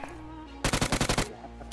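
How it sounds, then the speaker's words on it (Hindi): A fast automatic burst of gunfire in the mobile battle-royale game BGMI (PUBG Mobile), about nine rapid shots in well under a second, loud and close over a low game hum. "मुझे लेफ्ट साइड से भी फायर साउंड आता है"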